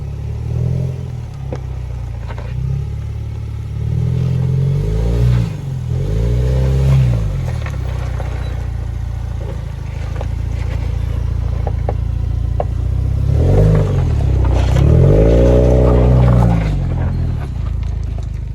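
A 2021 Ford Ranger Lariat with a locking rear differential crawls over a rocky trail in Utah, its engine rising and falling in repeated surges with clunks and rattles, close and fairly loud, with no voices.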